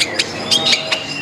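A long-tailed shrike gives a few sharp, harsh squawking calls in quick succession at a bird market, close and clear against a quiet background.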